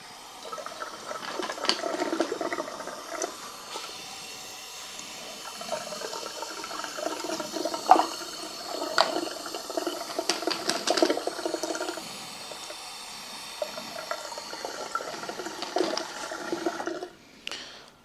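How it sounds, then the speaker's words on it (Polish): Water pours steadily into the tank of a Fernox MKIII flushing machine used for cleaning a central heating system, a continuous splashing rush with gurgles and small knocks, fairly close, that tails off abruptly at the end. "Także zaczynamy, wlewamy wodę."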